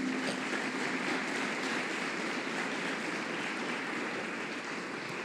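A church congregation applauding during a Portuguese-language sermon, a dense, even wash of clapping that holds steady throughout, heard at a distance and fairly faint.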